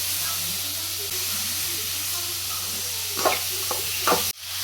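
Onions, tomato and coriander sautéing in a pan, a steady soft sizzle and hiss with a few scraping stirs toward the end, fairly close, with no voices over it.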